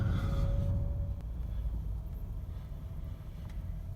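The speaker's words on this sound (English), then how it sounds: "Driving a 13 GL450 Mercedes." Steady low rumble of a 2013 Mercedes GL450 SUV with a twin-turbocharged engine driving along, a constant close cabin drone with a faint whine early on and no talking.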